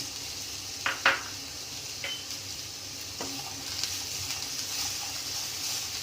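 Diced apples sautéing in a little olive oil in a pan, a constant gentle sizzle broken by a few scraping stirs and utensil knocks against the pan, close with no talking.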